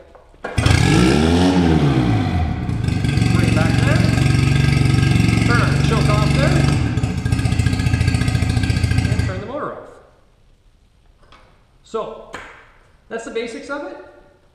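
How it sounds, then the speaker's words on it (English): A small 4-25 HP outboard boat motor starts and runs loud and steady for about nine seconds, its pitch shifting as the revs change before it cuts off, followed by a few brief voice-like sounds. "when this starts up finally, and you have uh, the motor running at high RPM, you want to bring it back down to neutral or, or to idle speed"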